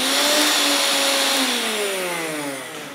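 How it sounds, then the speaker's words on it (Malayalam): An old electric kitchen mixer grinder runs in a home kitchen, a loud whirring motor whine that slowly drops in pitch as it winds down, heard alone without talk. "ഒരു മിക്സി, അതിൻ്റെ സൗണ്ട് കേട്ടാണ് ഇവിടെ എല്ലാ ആൾക്കാരും എണീറ്റ് വന്നത്."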